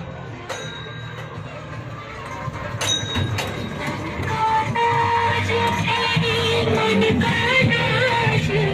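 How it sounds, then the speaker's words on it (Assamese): A small train rumbles past amid a busy outdoor crowd, with a bell ringing and metallic clanks over steady background chatter. "এয়া হ'ল টয় ট্ৰেইন।"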